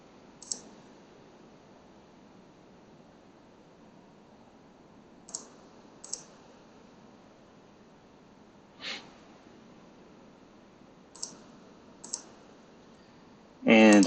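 Mouse clicks while working in Excel Power Query, a handful of sharp, isolated clicks spaced several seconds apart over a quiet background, ending in a short louder burst of noise.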